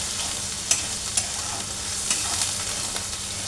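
Masala with turmeric being fried down and stirred in a pan for a hilsa fish head and taro flower curry: a steady, bright sizzle with intermittent clicks and scrapes of the spoon, close and fairly loud.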